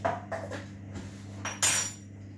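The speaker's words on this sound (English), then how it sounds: "and then stir that in as well" A spoon stirs baking powder into keto bread batter in a bowl, giving a few close clinks and scrapes against the bowl over a low steady background hum.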